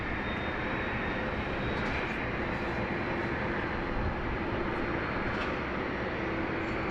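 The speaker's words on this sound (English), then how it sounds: "here comes the China Southern now" China Southern Airbus A380 on short final at Sydney Airport, a continuous dense jet engine roar heard steadily throughout without any voices.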